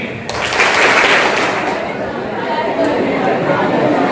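Students clap and chatter in a school hall during a motivational programme, a burst of applause mixed with crowd noise and voices.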